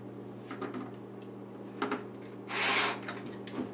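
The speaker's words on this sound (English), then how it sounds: "now we've got all the screws in place, so we're going to tighten them all up." Short bursts from a low-torque power screwdriver tightening screws on a dishwasher handle, with a longer whir near the end and light clicks between the runs over a quiet, humming room.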